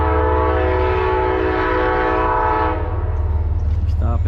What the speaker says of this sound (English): I do hear a train coming though.